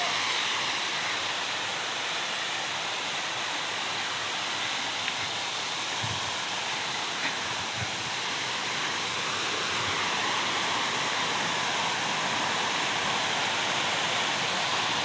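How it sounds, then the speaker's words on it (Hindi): A waterfall among rocks and small pools in Uttarakhand gives a constant, even rushing roar that fills the whole stretch with no break. "क्या झरना बह रहा है देखिए।"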